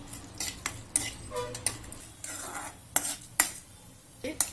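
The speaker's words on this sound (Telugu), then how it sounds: "ఆయిల్ వేడైన తర్వాత పోపు గింజలు అన్నీ వేసుకొని ముట్టి మిరపకాయలు యాడ్ చేసుకోండి" Mustard seeds and other tempering spices with dried red chillies sizzle and crackle in hot oil, with sharp clinks and scrapes from a utensil stirring the pan.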